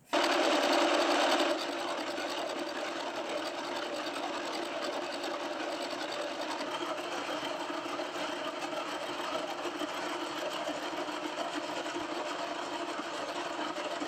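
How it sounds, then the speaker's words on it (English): A machine tool cuts a broken two-foot gauge steam locomotive crosshead down to its bronze, giving a steady mechanical whir that holds evenly throughout after a brief louder start, close and without speech. "So I'll carry on and I'll machine it right down to the bronze"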